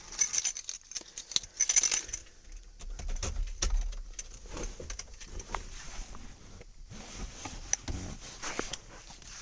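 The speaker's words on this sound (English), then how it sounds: "if we turn the key on" Car keys jangle and click faintly while the ignition key is turned in a mini-truck in a garage, with light metallic rattles and scattered soft knocks, nearby and fairly quiet.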